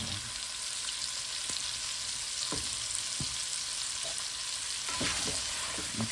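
Rice with chicken and shrimp frying in a pan as garlic powder is stirred in, a steady loud sizzle broken by repeated scraping and knocking of the spatula, close up with no one talking.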